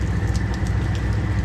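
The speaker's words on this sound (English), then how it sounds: "unfortunately it's raining" Rain falls steadily and heavily outdoors where a sailboat keel is being re-bedded. The dense hiss of drops is close and continuous, with no speech over it.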